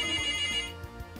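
Telephone ringing, a brief electronic ringtone trill, fairly quiet and heard alone.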